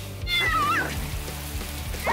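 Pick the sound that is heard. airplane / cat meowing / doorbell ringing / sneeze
cat meowing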